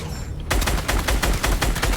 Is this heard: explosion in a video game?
yes